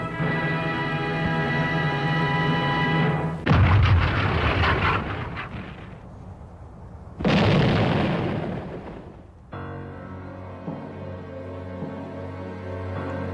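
Heavy booms of World War II German artillery fire and explosions, two big blasts with long rumbling decay between steady droning mechanical noise.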